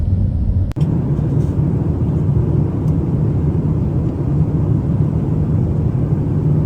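Steady, low airplane cabin drone on an Abu Dhabi to London flight at about 852 km/h, an unbroken rumble with a single faint click early on and no voices.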